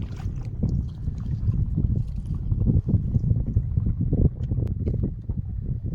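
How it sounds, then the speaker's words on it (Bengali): A wooden fishing boat is rowed on the Brahmaputra river during hilsa fishing, with rumbling water and hull noise mixed with heavy wind buffeting on the microphone, close and continuous. "এক হাত দিয়ে যে নৌকা বাইতেছে, আর এক হাত দিয়ে জাল ছাড়তেছে"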